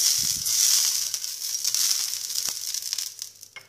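Moroccan pastry batter sizzling in an oiled heavy pan, a loud close hiss that slowly fades, with a few small pops and crackles and no talking.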